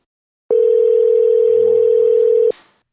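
A steady, loud telephone dial tone plays for about two seconds while podcast guests are being called, then cuts off with a click into silence.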